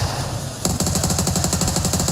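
A rapid automatic gunfire burst in the mobile battle royale game BGMI starts partway through and hammers on in a fast, even rhythm, loud and close, after a stretch of lower game ambience.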